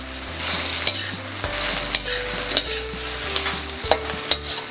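Fried cauliflower pakoras being mixed in a pan for street-style Gobi Manchurian, with steady sizzling and repeated sharp clicks of a spatula against the pan, close and fairly loud, no talking.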